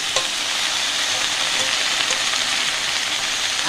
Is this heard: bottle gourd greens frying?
yes